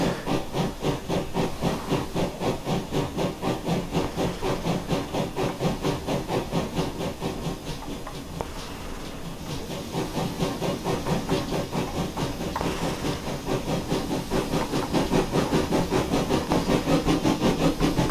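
A GWR pannier tank steam locomotive in Train Simulator Classic chuffs in a steady, rapid rhythm of exhaust beats with hiss, loud and close, easing briefly midway before picking back up.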